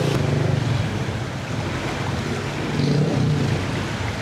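Floodwater at high tide fills a flooded street, a steady broad wash of moving water mixed with wind rush across the microphone, with no voices.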